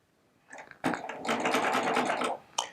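A Baby Lock Triumph sewing machine runs a short burst of stitches, a steady buzzing whir that starts after a brief tap, holds for about a second and a half, then stops, with a small click at the end.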